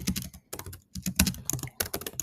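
Fingers type an email subject line on a computer keyboard in quick, irregular bursts of light clicks separated by short pauses, fairly quiet and close, with no talking.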